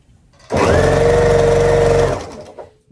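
A sewing machine stitching quilt block pieces, one continuous burst of fast, even whirring lasting about a second and a half, loud and close, with quiet handling before and after.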